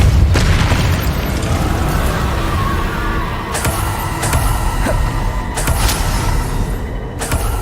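Spell explosions in the Hogwarts Legacy video game: a rapid series of loud, heavy booms and bursts, with sharp impacts near 0.3, 3.6 and 5.6 seconds.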